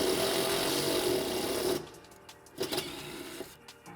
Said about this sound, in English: Tightening our screws down.